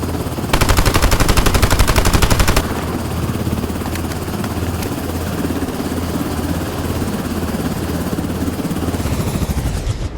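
In the extraction shooter game Beautiful Light, a loud rapid burst of automatic gunfire rattles for about two seconds while the player flies over villages, and a steady helicopter-like engine drone continues underneath.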